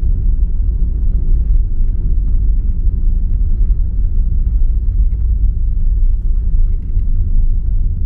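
Steady low road rumble from inside a car driving from Coral Bay toward Paphos Harbour in Cyprus, a constant close engine and tyre drone with no talk.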